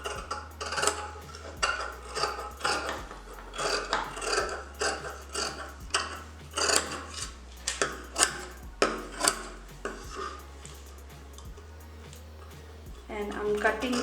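Scissors cutting fabric for a kurti neckline, repeated crisp snipping and crunching strokes close up, with a low steady hum underneath.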